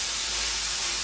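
Steady compressed-air blast from an automotive paint spray gun being test-fired, a continuous loud hiss with no pauses through the whole short stretch.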